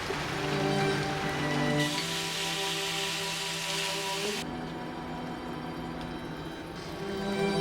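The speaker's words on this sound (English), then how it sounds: "The weather looks like this rain's going to blow over in a couple hours" Steady rain falls outside an overland truck parked in northern Europe, a continuous hiss of drops on the surface nearby with a low hum underneath, running unbroken throughout with no voices.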